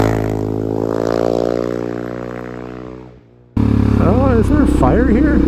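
A Suzuki DRZ400SM supermoto revs hard at full throttle, its engine note rising and then dropping away into near silence before a loud, wavering burst of wind and engine noise cuts back in.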